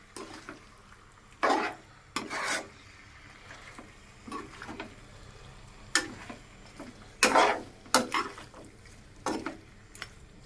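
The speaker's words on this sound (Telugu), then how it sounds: "కూర అయితే బాగా చేప ముక్కలకు పట్టేటట్టు బాగా కలుపుకోవాలి." Tuna fish head pieces being mixed with curry masala, giving scattered wet clinks and scrapes of a spoon against a pot, in irregular bursts with quiet gaps between them.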